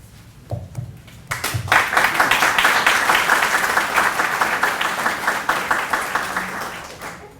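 A room full of people at a credit union board meeting claps for volunteer committee members. After a few faint taps, the sustained applause swells and continues steadily to the end.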